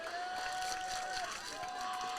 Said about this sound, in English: A little "you can't do that" cheer coming from the Studies